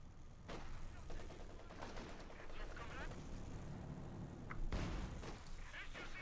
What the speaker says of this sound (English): Quick barrage there from the F-6M